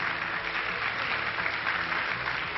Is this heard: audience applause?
yes